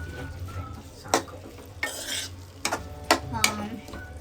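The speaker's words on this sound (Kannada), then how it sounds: "ಸೊ ನಾನು ಈ ಮಸಾಲೆಗೆ ಪಾಸ್ತಾ ಇಲ್ಲಿಗೆ ಫ್ರೈ ಮಾಡ್ತಾ ಇದ್ದೀನಿ" Pasta frying in masala in a pan, a spoon stirring with several distinct scraping clinks against the metal over a low sizzle, close and alone without voices.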